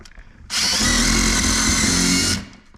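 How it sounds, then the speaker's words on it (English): A loud power drill whirs steadily for about two seconds, starting and stopping abruptly, close by, while drilling to mount fender flares on a 2026 Can-Am Defender HD11. "So let's drill it"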